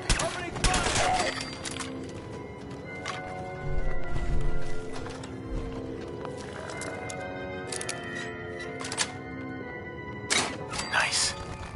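Gunfire in Fallout 4: a chaotic volley of sharp cracking shots in irregular bursts, loudest early on and again near the end, mixed with game effects and voices.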